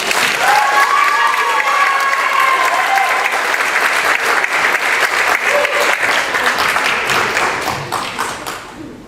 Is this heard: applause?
yes